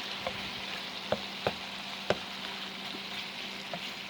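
Pork browns in vegetable oil in a pan for green chile stew, a quiet, even sizzle with a few faint utensil taps scattered through it and no speech.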